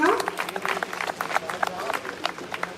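Audience applause welcoming a young girl onto the stage at a school annual function, a quick burst of dense clapping from a crowd with voices mixed in.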